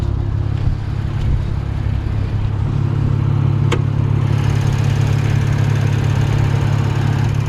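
A Lexus IS250 F Sport engine idles with the hood up, a steady, smooth low rumble holding close and even throughout, with no voices over it.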